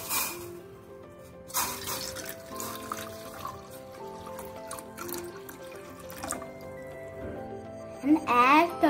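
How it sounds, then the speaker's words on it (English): Water poured into a bowl set on a stove for Tulasi tea, a splashing pour near and clear with faint kitchen clatter around it. "Add water."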